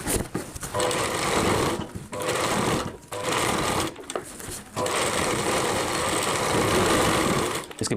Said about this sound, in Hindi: तो कुछ इस तरीके से हम यहाँ पे सिलाई लगा देते हैं।